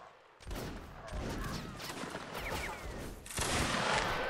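Musket volleys crackle in a Napoleonic Wars video game line battle as dense fusillades of many overlapping shots, one burst after another, loud and close with no talk.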